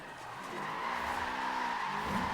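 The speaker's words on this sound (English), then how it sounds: "Third gear drift. Hasn't quite got enough power." Car drifting in third gear in the Forza Horizon 4 racing game, with a sustained tire squeal and skid over a straining engine note, steady and fairly faint throughout, no talk.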